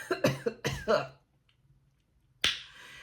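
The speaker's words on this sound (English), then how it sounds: "And you already know that because I coughed on you." A woman lets out one sharp, close cough after a second of quiet, following a few brief voiced sounds at the start.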